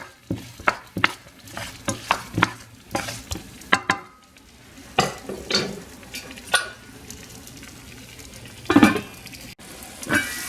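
Food cooking in a pan under a lid, a faint background sizzle punctuated by repeated close taps and knocks of a utensil and pan.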